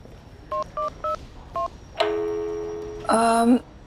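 Four short beeps of a phone keypad being dialed, then a long ringing tone and a louder electronic signal tone as the call fails to connect, close and clear.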